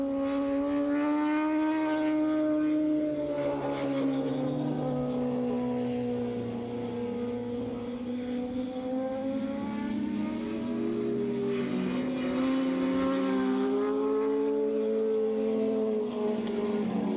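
Open and 750cc Super Street motorcycles racing at Willow Springs International Raceway, several engines wailing together in rising and falling pitch as they pass, a loud sustained multi-bike howl lasting throughout.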